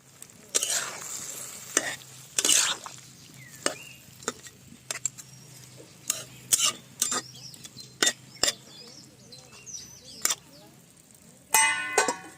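Fish, pumpkin stalks and potato cooking in water in a pan, a quiet background of faint bubbling broken by scattered clinks, scrapes and knocks of utensils, with a louder clattering burst near the end.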